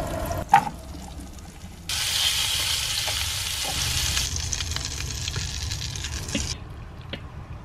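Food fries in a hot pan. A loud, broad sizzling hiss starts abruptly, holds steady for several seconds, then drops off, with a few light clinks and taps around it.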